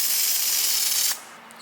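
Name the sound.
foam sprayer spraying Release Ultra bug cleaner on airplane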